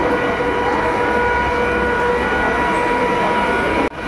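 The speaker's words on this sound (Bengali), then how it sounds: "এই যে ট্রেন দিয়ে দিয়েছে" A train stands at a station platform while the doors are still shut, giving a steady, loud rumble and hum that runs continuously before a sudden drop near the end.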